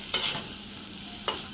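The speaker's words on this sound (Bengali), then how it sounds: "এই যে এখানে হচ্ছে বট কষানো হচ্ছে" Tripe and potatoes being sautéed in a pan: a low background sizzle broken by two sharp scraping stir strokes, one early and one near the end, no speech.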